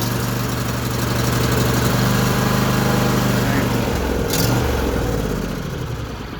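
Small engine sputtering and running rough on stale, foul-smelling gas, a loud steady drone with slight surges in speed, and a voice speaking over it.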